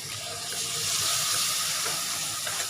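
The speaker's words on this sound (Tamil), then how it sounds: "மசாலா கொஞ்சம் பிடிக்காமல் இருக்க அடியில் லைட்டாக தண்ணி ஊற்றிக்கலாம்." Water is poured into hot masala in a pan, producing a loud, close, continuous hissing rush that stays steady for a few seconds without any voices.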